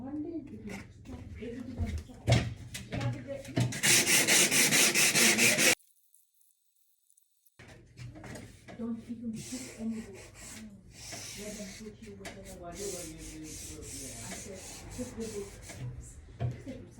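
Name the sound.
sanding MDF woodwork with a sanding block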